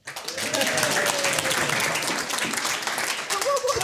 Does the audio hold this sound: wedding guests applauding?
yes